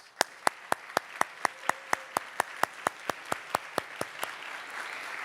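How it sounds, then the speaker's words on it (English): Steady, rhythmic claps ring out at a medical school white coat ceremony in Auburn, about twenty evenly spaced sharp beats in unison, fading slightly toward the end. "I want to give everybody else a round of applause."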